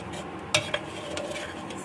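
Nankhatai biscuit dough is mixed and kneaded in a bowl, giving soft, continuous stirring and squelching with a couple of brief knocks against the bowl.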